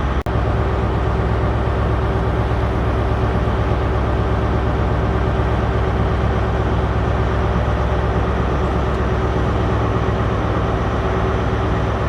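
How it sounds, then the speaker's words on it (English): A stationary Glasgow to Aberdeen passenger train idles at a platform in Stirling station with a steady low engine rumble and hum, constant throughout with no clear acceleration. "Glasgow to Aberdeen train waiting to leave platform 2 at Stirling"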